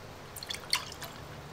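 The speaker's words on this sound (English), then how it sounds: "My hesitancy is causing it to drip." Melted coco-apricot candle wax drips while being poured, giving a few faint, delicate plinks close by against a quiet background.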